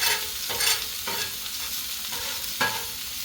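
Chopped onions fry on a Blackstone griddle with a steady broadband sizzle, broken by several scraping stirs of a spatula; it is close and fairly loud, and no one speaks.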